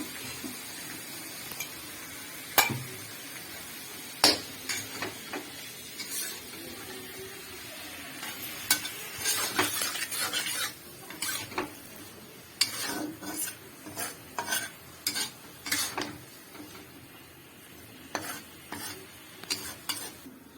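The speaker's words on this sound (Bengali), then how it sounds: "হলদি লবণ দেওয়ার পরে এটাকে ভালো করে ভাজতে হবে।" A pan of food fried with turmeric and salt, stirred in repeated scraping and clattering strokes over a quiet, steady sizzle, close by with no talking, the metal knocks irregular and fairly crisp.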